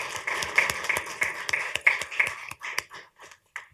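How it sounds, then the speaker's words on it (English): Audience at a county commissioners meeting claps for the coaches, a loose burst of sharp individual claps that thins out and tapers to a few scattered final claps. "I want to give a big round of applause to the coaches"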